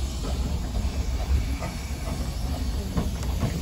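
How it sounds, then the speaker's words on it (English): Romney Hythe and Dymchurch Railway steam train pulling out of Hythe station, heard from aboard as a continuous rumble of wheels on rails with steady hiss and occasional faint clanks. "We're just pulling out of the station."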